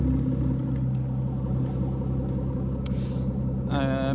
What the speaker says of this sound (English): in order to see and hear exhaust noises